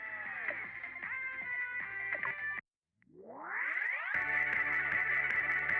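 Warped, distorted audio from the game Needy Streamer Overload, with choppy repeating tones, a brief dropout to silence, then a rising sweep before the garbled sound resumes.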